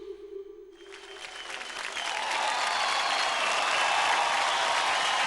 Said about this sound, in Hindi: जोरदार तालियां हो जाए अनुष्का और अनुदिता के लिए।